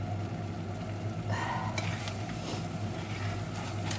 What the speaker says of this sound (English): do try to whisk it around so you can swish every bit of onion there